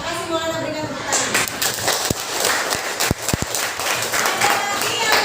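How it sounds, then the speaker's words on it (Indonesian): Fifth-grade elementary schoolchildren clapping in a classroom, a brief ragged round of applause with a few sharp individual claps and children's voices mixed in. "Terima kasih Maulana, berikan tepuk tangan."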